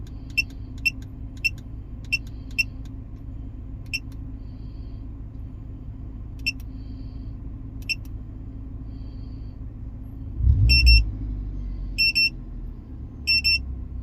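A KONNWEI KW206 gauge sounds its high-pitched electronic alarm at 1,000 RPM: a run of short, sharp beeps in quick bursts that drop away and return, over a steady low engine hum that swells briefly near the end.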